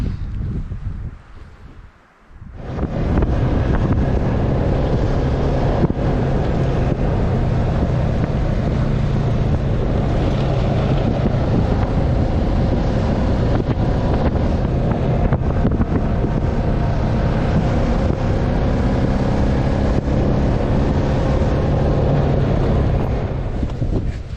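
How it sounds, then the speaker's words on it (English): Strong, steady wind roars across the microphone after a brief quieter moment, a continuous buffeting rush with no talking. "Boy, it's windy this afternoon."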